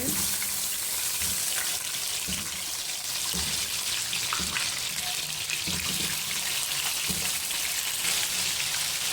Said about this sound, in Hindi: अब मैं इसमें आलू शामिल करूंगी